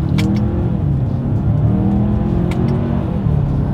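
A 2022 Hyundai Santa Fe pulls away in first gear under paddle-shift control, its engine note a loud, steady rising drone heard from inside the cabin.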